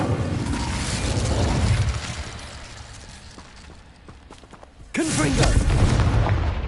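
An Incendio fire spell cast in Hogwarts Legacy, a rumbling roar of flame and booms that fades to quieter game noise before a second sudden loud fiery burst erupts and keeps roaring.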